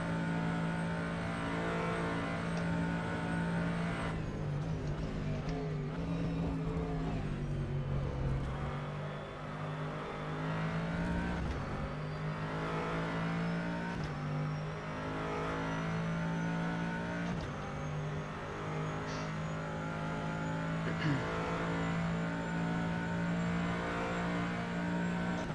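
Race car engine in the sim racing game rFactor 2 during esports practice, a steady loud drone with gear shifts and pitch rises held across long straights, no talk.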